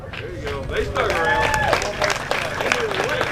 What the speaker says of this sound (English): Clap for all of them.